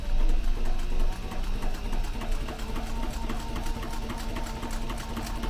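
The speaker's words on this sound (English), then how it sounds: "This is a Cobra Class 18 machine" Cobra Class 18 heavy-duty sewing machine stitching a duffel bag with size 138 thread, a loud, close, steady motor drone with rapid rhythmic needle thumps that continues throughout.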